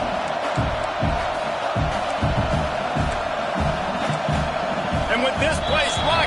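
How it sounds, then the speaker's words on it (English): A roaring stadium crowd in the College Football 26 video game, a dense, loud and constant wall of cheering noise with rhythmic low thumps, broadcast commentary speaking over it. "with this place rocking, the crowd forces a false start"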